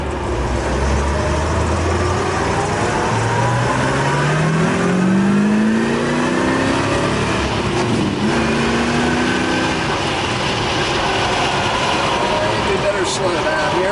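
A numbers-matching 1962 Chevrolet Corvette's engine climbs steadily in pitch as the car accelerates on the road, a loud, close, continuous rising drone with a brief dip and another rise, wind and road noise underneath.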